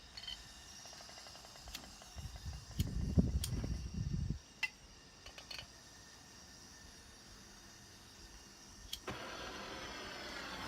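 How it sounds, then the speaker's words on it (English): A propane torch lit to ignite wood pellets in a smoker for cedar-plank salmon, a close roaring burst for about two seconds amid clicks and handling noise, then a steady hiss, no talking. "So now I'm using propane torch"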